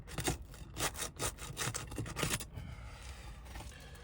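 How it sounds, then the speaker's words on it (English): A roofing flat bar working under asphalt shingles to break their seal, a rough, rhythmic scraping and grinding for a couple of seconds, close and fairly loud, then fading to quiet rustle. "using the roofing flat bar to break the seal"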